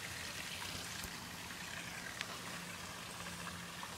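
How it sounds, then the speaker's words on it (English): A waterfall roars as a steady, broad wash of falling water, continuous and fairly faint, with no voices over it. "This is like an amazing waterfall."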